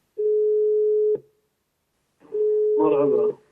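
A telephone call rings out with two long, steady beeps separated by silence, and a voice starts talking over the end of the second tone.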